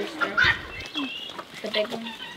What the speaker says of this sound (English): The olive rooster.